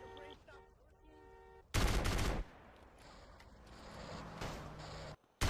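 Gunfire in GTA San Andreas: a loud burst of rapid shots breaks in after a quieter stretch of engine and street noise, then ambient traffic and scattered noise continue, with another short loud hit at the end.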